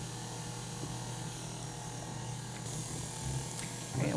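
An electric mixer runs steadily through dairy-free, gluten-free cheesecake batter with a continuous mid-level motor whir and a low steady hum, close and fairly constant, with a few faint clinks and a brief louder bump at the end.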